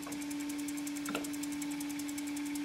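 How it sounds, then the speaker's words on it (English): A wood lathe spins a broken lid being turned into a bowl with a 3/8 spindle gouge, giving a steady humming drone and a faint rhythmic pulse, with a brief scrape of the tool partway through. "I'm going to turn this off using a 3 8 spindle gouge"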